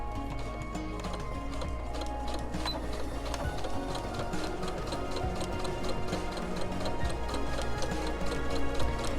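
A sewing machine stitching around a fabric heart, running steadily with a fast, regular mechanical clatter for about nine seconds, close and continuous.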